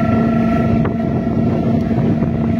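Steady low engine drone of a river vessel near a sand-carrying cargo ship, with a constant hum and wind rumble on the microphone throughout, no voices.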